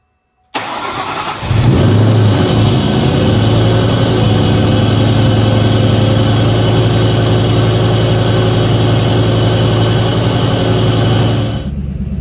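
A 2003-2004 SVT Cobra Terminator fitted with a ram air intake cranks, fires and settles into a loud, steady idle close by, the engine note holding evenly to the end.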